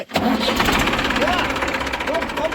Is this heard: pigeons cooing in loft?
no